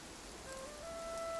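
Steady night rain in Infinity Nikki falls as a soft, even hiss, faint and continuous, with a couple of thin tonal chimes drifting above it and no voices.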